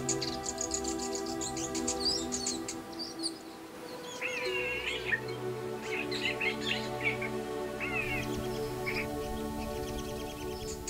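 Native passerine songbirds sing in the La Roche Écrite reserve on La Réunion, with varied chirps, trills and whistled phrases overlapping throughout, set against a steady hum of insects.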